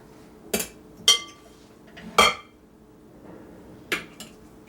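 Shredded cabbage is packed into a crock for homemade sauerkraut, with four or five separate sharp clinks and knocks spaced across the clip against a quiet kitchen background.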